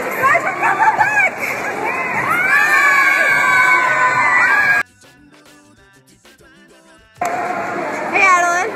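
A crowd at a fan meet and greet, with children shouting, cheering and screaming loudly up close. The noise cuts out for a couple of seconds in the middle, then returns just as loud.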